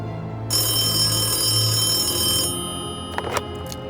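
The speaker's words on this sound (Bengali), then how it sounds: "সকালে রড্রি ফোন করে জানালেন" A telephone rings once in a sustained, bright electronic burst lasting about two seconds, then stops, followed by a few faint clicks, heard alone with no speech.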